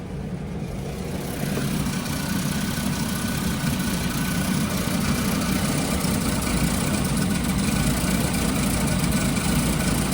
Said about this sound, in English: All right, we have a little misfire here.